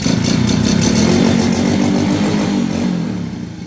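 A motorcycle that had not started for two weeks runs close by, its engine chugging in a fast steady rhythm with a slight rise in revs before settling back.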